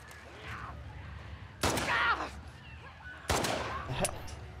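Two sharp bursts of gunfire in a zombie video game ring out a couple of seconds apart, loud against a quiet background hum.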